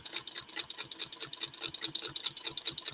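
A sewing machine stitching a quilt runs at a quick, even rhythm of close mechanical ticks and whirs, steady and alone for a few seconds.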